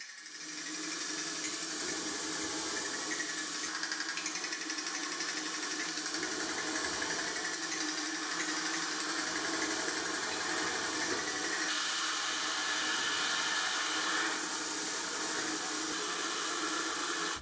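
A compressor steadily blows air into the combustion chamber of a homemade jet motorcycle during an ignition test, giving a continuous hissing, whirring rush that holds at an even level for the whole stretch, with no voices.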